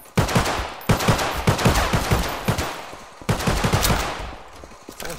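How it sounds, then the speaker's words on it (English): Video game gunfire crackles in dense rapid bursts, like automatic weapons, loud and close, with short gaps between volleys and no talking. "Someone's shooting at me."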